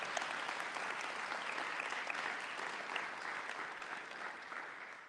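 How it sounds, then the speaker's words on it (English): Sustained applause from an audience for awardees at a district event, a dense steady patter of many hands clapping that fades slightly toward the end. "let's give all our awardees a great big round of applause"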